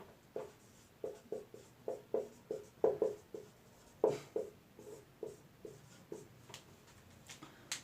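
Chalk or marker writing on a board during a math lesson: quiet, irregular taps and short strokes in quick bursts, close and alone with no talking.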